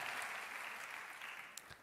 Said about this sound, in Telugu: గట్టిగా చప్పట్లు కొట్టి దేవుని మహిమపరచండి.